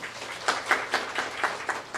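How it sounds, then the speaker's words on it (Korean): Modest applause from a seated forum audience in a hall, a few seconds of scattered, fairly faint claps with a loose rhythm and no talking over it. "다시 한번 박수 부탁드립니다"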